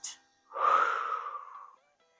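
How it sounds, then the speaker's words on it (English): One slow, audible breath drawn in through the nose and mouth during a hip-opening splits stretching routine, close and breathy, following a short click. "Breathing in and out, and then going in the opposite direction."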